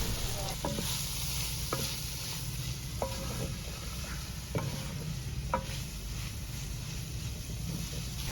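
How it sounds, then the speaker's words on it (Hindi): Chopped capsicum being stirred into mixed vegetables frying in a pan, for a village-style chicken creamy pasta: a steady close sizzle with sharp spatula scrapes every second or so, no voices. "अब शिमला मिर्च शामिल कर लें, हिलाते जाएं"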